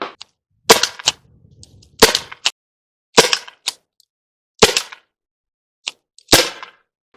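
A Byrna pistol fires kinetic rounds in six sharp, close cracks spaced about a second apart, each with a short tail, with quiet gaps and a few faint handling clicks between.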